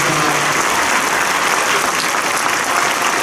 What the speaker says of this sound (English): let's give these students one last good round of applause